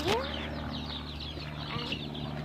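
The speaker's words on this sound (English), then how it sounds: "There's roosters like the one that I show you right now." Chickens and roosters cluck and call in a farmyard at feeding time, a few short squawks and chirps rising over a steady background hum.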